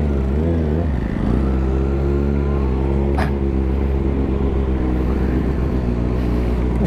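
Kawasaki ZX6R 2020 motorcycle engine droning steadily close by, a strong harmonic hum holding level with a brief rise in pitch near the start, alone without talk.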